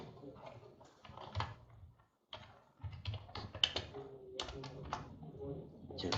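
Keys on a computer keyboard are tapped in quick uneven bursts, with sharper mouse-button clicks mixed in, close and fairly quiet, with a short pause midway and low voice-like murmur in places.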